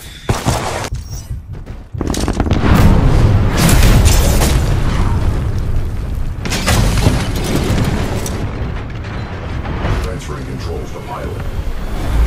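A Titan blown apart in the video game Titanfall 2, a loud booming explosion that kicks in suddenly and rumbles on for several seconds amid continuous battle noise and in-game voice lines.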